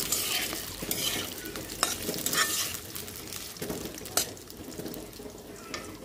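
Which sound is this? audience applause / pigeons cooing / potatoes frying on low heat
potatoes frying on low heat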